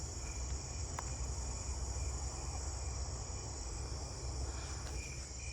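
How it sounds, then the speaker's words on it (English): Fall field crickets chirp at night within a dense chorus of other crickets, short repeated chirps faintly rising over a constant shrill insect hum, fairly distant. "Oh, I'm hearing fall field crickets."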